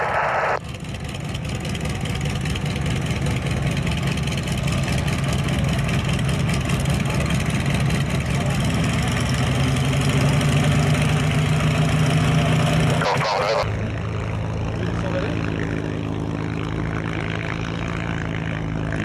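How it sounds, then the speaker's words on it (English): Old warbird aircraft engines idle in a steady, loud, low droning rumble that runs unbroken throughout, with a brief shift in tone about two-thirds of the way through. "Love the sound of these old aircraft"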